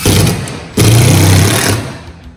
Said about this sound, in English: So I put this little screw in there, right?